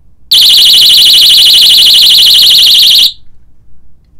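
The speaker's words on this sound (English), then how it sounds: "this is the loudest personal alarm keychain I've actually ever heard" A loud personal alarm keychain shrieks in a piercing, rapidly warbling tone that holds steady for about three seconds, then cuts off abruptly into near silence.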